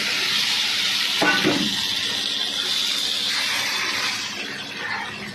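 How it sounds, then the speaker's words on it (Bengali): Mango pieces dropped into hot oil with fennel tempering for a mango chutney, giving a continuous loud sizzle and hiss with a brief crackling burst as they go in, then steady frying. "মৌরিটা ফোড়নে দেওয়ার পর আমটা এর মধ্যে দিয়ে দেবো"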